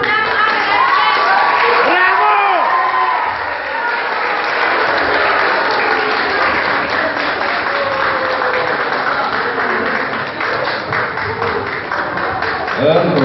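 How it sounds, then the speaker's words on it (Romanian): Audience applause at an award ceremony, a sustained, loud wash of clapping from a crowd lasting the whole stretch, with a voice briefly audible near the start. "Hai să mai dăm un rând de aplauze"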